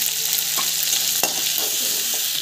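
Chana dal with turmeric powder sautéing in a hot pan, a constant loud sizzle with a few distinct stirring scrapes of the spoon cutting through, close and without any talk.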